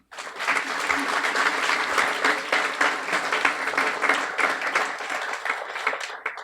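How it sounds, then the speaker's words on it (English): A warm round of applause from the audience at a Guiding Eyes guide dog graduation ceremony, dense and steady clapping filling the room at close range and holding evenly for several seconds. "Warm round of applause to them"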